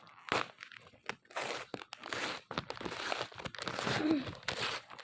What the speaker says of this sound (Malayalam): അപ്പോൾ നമ്മളിത് അൺബോക്സ് ചെയ്യാണ്